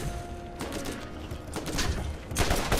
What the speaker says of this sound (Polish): Skąd to strzela z góry?